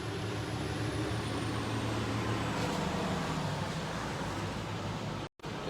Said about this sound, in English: the downside of the outdoor office is you got traffic noise.